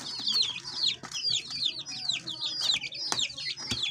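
Several chickens cluck and chatter in quick, repeated bursts nearby, with no talking over them.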